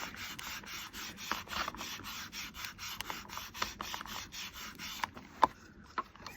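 Dry eraser rubbed back and forth over a chalk stamp, a steady close scratchy rasp in quick repeated strokes for about five seconds, then a few separate taps and scuffs.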